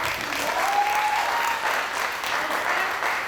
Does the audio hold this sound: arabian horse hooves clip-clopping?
no